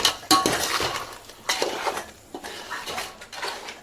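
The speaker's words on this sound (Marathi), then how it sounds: "आता आपण टाकूया चिंबोरी मस्तपैकी मिक्स घेऊया" Crab pieces are tipped into a pot of spiced masala for crab biryani and mixed, with clattering metal and shell knocks, scraping spoon strokes and clinks close by in irregular bursts.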